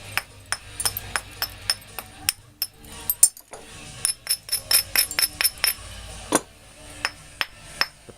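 Flint knapping to shape a Clovis point: a series of sharp, ringing stone strikes, some spaced and some in quick clusters, close and distinct, with a brief pause partway through and no talking.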